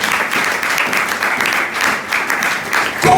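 A congregation at a Sunday church service applauds, steady dense clapping from many hands filling the room without a break, with only faint traces of voices.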